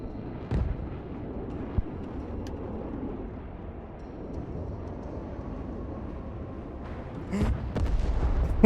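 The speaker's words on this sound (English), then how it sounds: "Oh, those bombs are huge." Huge bombs exploding across a battlefield in the Broken Arrow war game, a steady rumbling wash of distant blasts with sharper impacts near the start and a louder burst of detonations toward the end, under faint voice.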